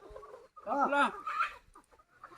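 Chickens kept by an elderly man cluck and call in a short burst at close range, with a few fainter sounds before and after.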